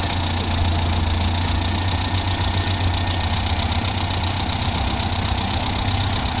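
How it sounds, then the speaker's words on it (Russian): A carbureted Toyota Corolla KE36 engine idles steadily and loudly up close, a continuous low rumble with a slight rhythmic knock and no voices. "Вот, собственно, работа мотора на этом карбюраторе."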